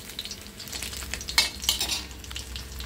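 Rawas fish frying in oil, a soft steady sizzle with occasional clinks and scrapes of a utensil against the pan, close and moderately quiet, no voices.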